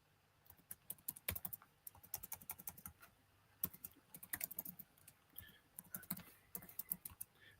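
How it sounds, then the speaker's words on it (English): Fast bursts of keystrokes on a computer keyboard while an email address is entered into a tour director app login page, crisp clicks in quick clusters with short pauses, close and fairly quiet, no talking. "we're going to type in Jim's email"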